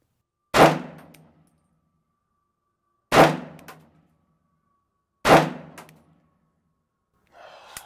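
Three loud, sharp pistol shots at an outdoor shooting range, evenly spaced a few seconds apart, each ringing out briefly before silence, with a faint rustle at the end.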